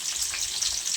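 Garlic and onion pieces fry in hot oil with mustard seeds, giving a steady, close sizzle with a continuous bright hiss and no talking.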